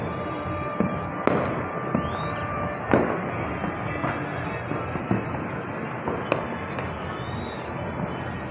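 Fireworks burst in the sky over Surat in a festive, Diwali-like celebration. Scattered distant bangs and crackles repeat under a constant wash of background rumble, and a couple of rising whistles shoot up between the pops.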